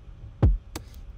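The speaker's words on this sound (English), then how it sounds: "This is the sound of my favorite kick." A single punchy kick drum hit with a deep low thump, followed by a faint click, heard alone.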